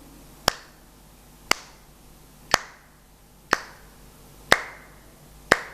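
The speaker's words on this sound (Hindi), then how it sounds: "तो देखो हम पहले इसके साथ क्लैपिंग करेंगे।" Single sharp hand claps during a children's music practice lesson, six evenly spaced claps about one second apart, crisp and close against a quiet background.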